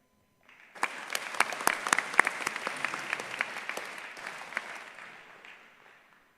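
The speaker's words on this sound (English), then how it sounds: "Please join me in another round of applause for all of these future educators." An audience at a school education celebration applauds an honoree, a steady crowd of clapping swelling in, holding for several seconds, then tapering off.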